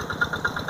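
A tractor engine ploughing a flooded rice field, running with a steady, close chugging idle and a faint regular knock pulsing a few times a second.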